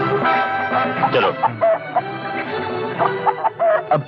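A rooster clucks and squawks repeatedly in a Bollywood film scene, close and loud, with busy irregular calls and flutters throughout.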